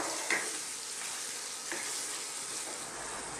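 Squid simmering in vinegar stirred in a pan, a steady broad hiss of cooking with a couple of faint scraping strokes, close and continuous.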